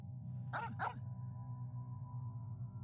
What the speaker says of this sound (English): I think it's the Rift Hound.